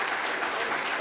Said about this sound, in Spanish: Un aplauso a Diosdado Cabello